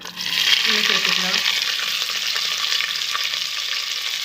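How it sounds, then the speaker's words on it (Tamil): Thin-sliced medium onions fry in hot oil with spices, a steady loud sizzle running throughout while a spoon stirs and scrapes through them, no voices present. "நல்லா பொன்னிறமாக வர வரைக்கும் வதக்கிடலாம்"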